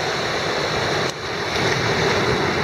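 Ocean surf and gusty wind roar steadily on a busy beach on a cloudy Sunday, a loud unbroken wash with a brief dip partway through and no voices.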